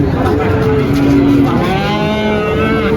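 Cattle low and moo in a crowded Muntilan cattle market stall among bulls and calves, overlapping calls with drawn-out tonal moos over steady market hubbub.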